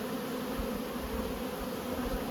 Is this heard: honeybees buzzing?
yes